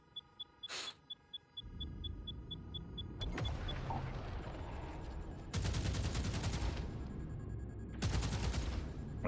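Spaceship cannons fire in a space combat video game, with two sustained bursts of rapid, loud crackling shots over a rumbling engine drone, preceded by a few short interface beeps.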